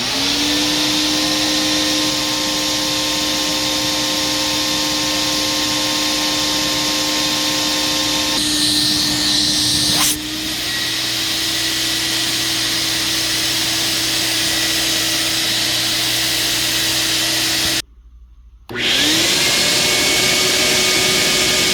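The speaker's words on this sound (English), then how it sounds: "we're going to start off with the two-stage motor in the 1671. That's in the 1672 body" The two-stage motor of a Bissell Big Green 1671 vacuum, fitted in a 1672 body, runs as a loud, steady droning whine. Its pitch shifts partway through, and there is a brief dropout near the end before it resumes.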